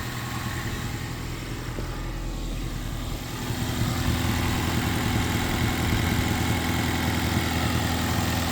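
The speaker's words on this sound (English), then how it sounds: "Actually running pretty good." Ford Mustang engine idling with all doors, trunk and hood open, a steady, continuous rumble close by that grows slightly louder partway through, with no talk.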